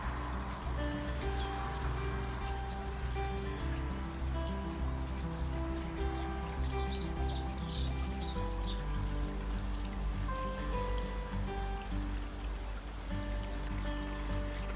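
Small birds chirp and tweet in a short burst among steady running water in a garden with ponds and streams, the calls light and fairly distant over the constant trickle.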